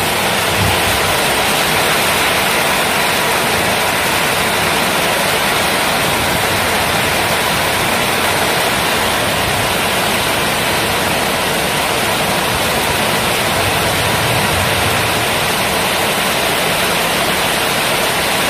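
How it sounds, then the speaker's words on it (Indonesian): Heavy rain and fast-running floodwater in South Kalimantan make a dense, continuous roar of rushing water, loud and unbroken throughout, with no voices heard. "Wah, ya, arusnya deras sekali Bu."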